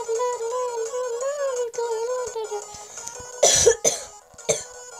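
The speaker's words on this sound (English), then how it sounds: "Oh, coughing." A few harsh coughs burst out near the end, close and loud, following a stretch of steady electronic game music from a Geometry Dash style level.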